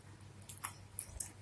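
Crunchy potato balado snack is chewed up close, with a few sharp, crisp crunches in quick succession over a quiet background.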